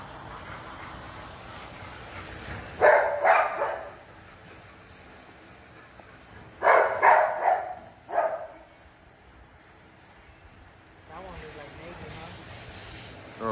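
XL pitbulls bark loudly in two short bursts of several barks each, heard close by with quieter stretches between, and someone talks near the end.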